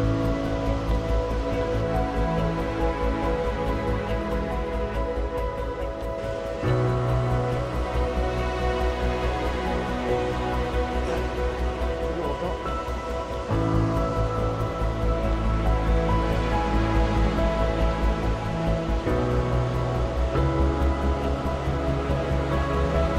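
Waterfalls along the Cascades trail in the Pyrenees roar as a steady, loud broadband rush of falling water, continuous throughout with small shifts in tone as the view changes, with no talk.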